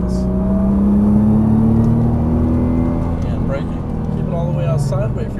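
Nissan GT-R engine accelerating on a race track, heard from inside the car as a loud, rising engine whine with tire and wind roar, while an instructor talks over it.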